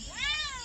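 A cat lets out a single close, clear meow that rises and falls, short and alone on a farm.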